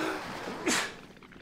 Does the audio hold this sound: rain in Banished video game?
no